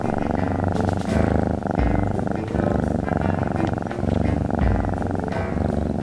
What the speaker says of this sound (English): starts purring lightly to his face